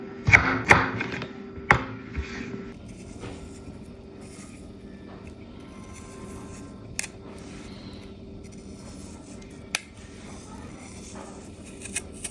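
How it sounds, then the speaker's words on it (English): A knife julienning carrots on a cutting board for a Jamaican escovitch pickle sauce, a quick burst of close crisp chopping strokes at the start, then sparse faint taps and quiet kitchen sounds. "So now I'm going to julienne the carrots."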